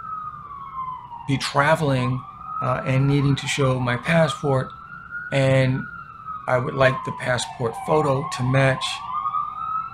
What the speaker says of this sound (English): it's more likely, excuse the siren,